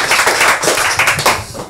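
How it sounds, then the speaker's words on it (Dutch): At a poetry club evening in Rotterdam, an audience claps for a poet. The short, close burst of clapping comes from a small room, with individual hand claps audible. "Mag je een applaus voor Hans Schravenzander?"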